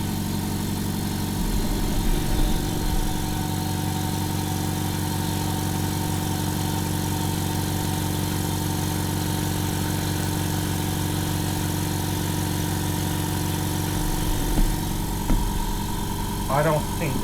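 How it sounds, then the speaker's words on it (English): A Hyundai HY7524 super silent air compressor runs with a steady, continuous low motor hum and drone, fairly close and even throughout, with a person talking over it now and then. "It's actually reasonably quiet for a compressor."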